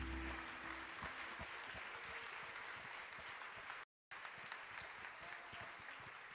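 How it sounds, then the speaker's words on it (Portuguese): A church congregation at a Saturday worship service applauds, a continuous wash of clapping that sounds faint and distant, with a brief dropout partway through. "Você pode aplaudir o Senhor Jesus?"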